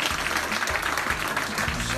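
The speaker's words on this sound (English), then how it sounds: "Round of applause!" A roomful of people clapping in a sustained round of applause at a health and social care talk, steady and moderately loud, with faint crowd murmur underneath.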